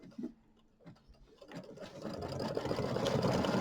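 A sewing machine quilts a pieced block, starting after a few soft handling thumps and then rising into a steady, fast mechanical whir that grows louder and runs on without talk.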